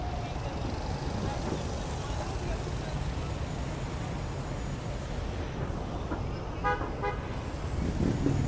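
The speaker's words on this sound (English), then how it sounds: "Fun bits, traffic." Times Square street traffic in New York City: a steady, close roar of passing vehicles with a car horn sounding near the end.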